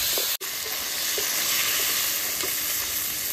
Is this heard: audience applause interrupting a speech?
no